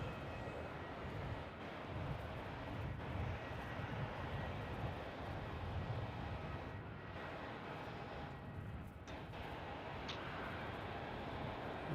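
Velocity flight 884 from Sydney arriving on runway 27 at Melbourne Airport, a faint, steady distant jet rumble that holds evenly throughout with no talk.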